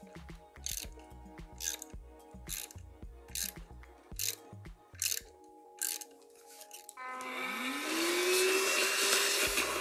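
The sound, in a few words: hand tap cutting M4 thread into hole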